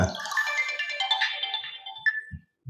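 A mobile phone ringtone plays a bright, warbling electronic melody for about two seconds, ending on a sustained high note before it cuts off, with faint room sounds after.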